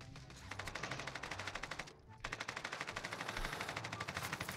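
Rapid automatic gunfire rattles in long, evenly spaced bursts during Call of Duty Warzone gameplay, fairly quiet overall with a brief pause mid-way before the shooting resumes.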